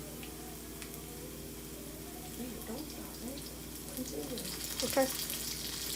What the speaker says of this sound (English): you want to make sure there's enough so that you still have that sizzling